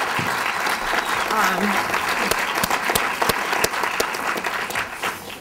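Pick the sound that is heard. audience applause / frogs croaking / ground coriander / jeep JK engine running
audience applause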